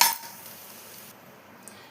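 A utensil clinks and scrapes against a pan as ghee-roasted almonds, cashews and raisins are moved onto a plate, one sharp metallic knock at the start and then a quiet room.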